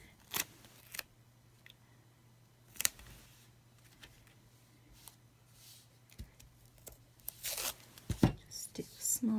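Backing strip peeled off a piece of stamped cardstock in a quiet room, a few brief soft tearing and crinkling bursts, the longest near the end, with a low steady hum beneath.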